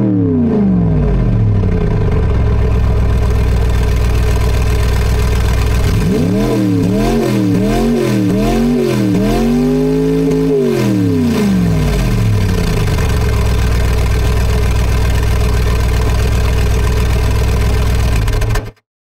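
A computer-simulated car engine idling with a steady low hum, briefly revved up and down in a few rising and falling sweeps in the middle, then settling back to idle before cutting off.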